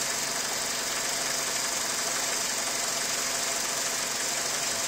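A 2000 Ford Focus engine idles with heavy vibration, a steady close rough drone and knocking hum that holds evenly throughout with no one talking.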